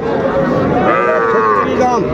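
A young bull calf at Ambari cattle market in Dinajpur gives a loud, close, drawn-out moo over a busy market murmur.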